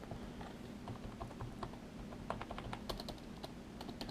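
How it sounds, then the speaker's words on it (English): Keys clack on a cheap backlit LED gaming keyboard, pressed hard in a steady run of close, crisp taps with a few sharper strokes near the end, no voices. "Keyboard is very responsive. I like it. No sticky keys. And I'm kind of pressing them pretty hard."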